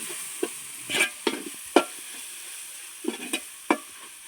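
Chili powder fries in hot oil for a chicken curry, a low steady sizzle broken by sharp clicks and scrapes of a spoon against the pan, close and fairly quiet.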